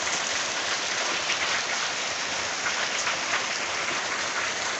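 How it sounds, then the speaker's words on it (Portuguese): Heavy rain pouring during a storm in Pernambuco, a dense, unbroken hiss of water striking surfaces, loud and steady with no voices. "A chuva tá correndo forte."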